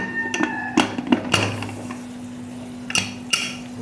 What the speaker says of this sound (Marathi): आपण कुकरचं झाकण घेऊ